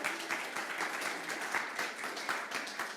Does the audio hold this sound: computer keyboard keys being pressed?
no